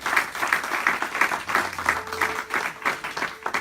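A church congregation applauds in steady rhythmic clapping that is loud and close and fills the hall, with a few voices faintly underneath.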